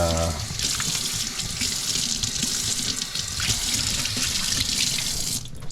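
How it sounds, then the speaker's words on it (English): Hands being washed under a running kitchen tap, a steady close hiss of water splashing into the sink that runs for several seconds before cutting off abruptly. "let me wash my hands here."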